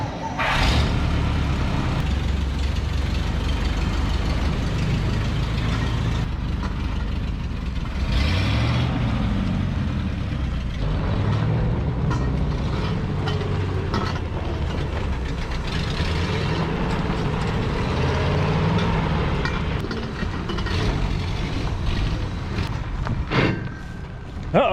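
An abandoned 1959 Chevrolet truck fitted with a Buick Nailhead engine running, a rough, droning idle that surges and rumbles for about twenty-five seconds, with people talking over it at times.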